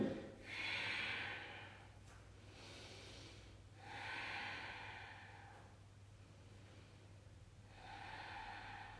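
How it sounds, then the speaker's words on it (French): Slow, audible Ujjayi breaths during a Vinyasa yoga class, three long hissing inhale-exhale cycles with steady pauses between them, close and fairly quiet over a low steady hum. "Respiration Ujjayi, on n'est pas en apnée, même dans la difficulté."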